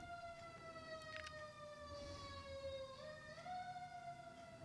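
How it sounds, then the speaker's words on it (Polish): Ambulance sirens wail outside at a moderate distance, a steady tone that glides down and then rises again over low traffic rumble. "Chyba karetki pogotowia."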